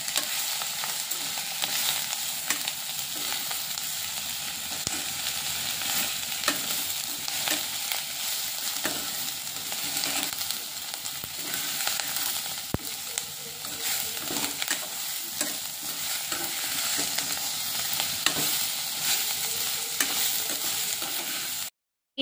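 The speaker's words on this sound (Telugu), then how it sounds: "కొంచెం చింతపండు అన్నీ వేసి మళ్ళీ కలిపెట్టాలి బాగా." Curry leaves, mint, coriander, cumin and tamarind fry and crackle in a pan for a chutney, a steady close sizzle under continuous stirring and scraping, with no voices.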